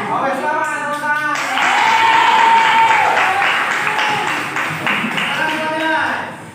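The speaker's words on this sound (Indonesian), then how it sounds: "Oke, selamat tepuk tangan." A classroom of students clapping together, a burst of loud applause beginning after a teacher speaks and tapering over several seconds as voices return on top.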